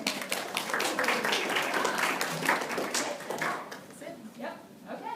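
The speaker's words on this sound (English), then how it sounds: "we'll give her a round of applause here" A class in a pediatric infectious disease session gives a round of applause, with many quick overlapping claps filling the room at moderate volume for several seconds before thinning out near the end.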